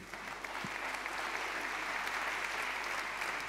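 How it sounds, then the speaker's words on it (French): A crowd claps steadily and evenly for a few seconds, a dense patter of applause without cheering. "On vous applaudit une nouvelle fois."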